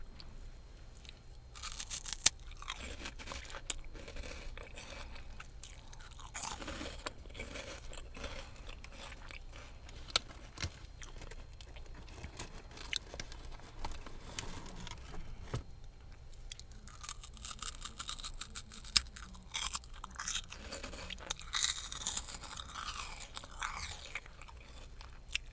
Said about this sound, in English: my boyfriend is eating chips also